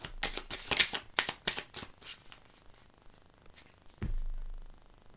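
A deck of tarot cards being shuffled and then cut, a quick series of close papery riffles and flicks followed by a soft sliding rustle, with no speech.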